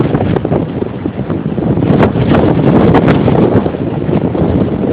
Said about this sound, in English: The wind's probably 35 miles an hour.